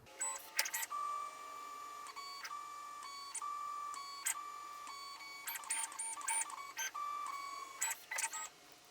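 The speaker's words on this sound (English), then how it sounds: "first of all, you want to home the machine." A 22 IDEX v2 3D printer homing all axes, with faint stepper-motor whines rising and falling in short tonal runs, punctuated by quick clicks and beeps as each axis finds its stop.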